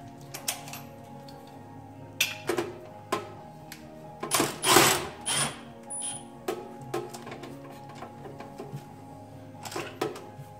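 An impact wrench fitted with a torque stick, extension and 18 mm socket tightens the lug nuts on a car tire mounted on a Honda GL1800 trike, firing in short rattling bursts spaced through a quiet workshop.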